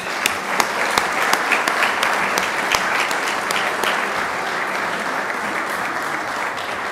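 A crowd at a school board of trustees meeting claps for a large group being recognized, dense and loud continuous applause filling the room with no voices on top.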